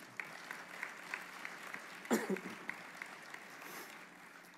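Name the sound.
audience applause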